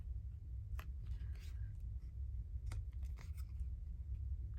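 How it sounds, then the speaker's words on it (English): Scissors snip the corners off a small paper journal card in a quiet crafting session, a few sharp, close cuts spaced apart over a low steady background hum. "I don't like the corners, so I just snip those off."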